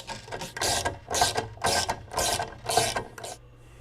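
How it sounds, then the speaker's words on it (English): A ratchet wrench loosening the upper bolts of a Ural heavy-duty spare tire luggage rack, five rhythmic close clicking strokes over a low steady hum, with no talk. "Now we're going to remove these two upper bolts."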